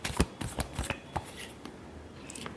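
A tarot deck is shuffled by hand up close, with quick papery riffle bursts crowded into the first second before softer, sparser flicks trail off.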